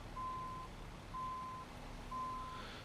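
Truck reversing alarm in American Truck Simulator, three evenly spaced steady beeps over a low engine rumble, with no talking.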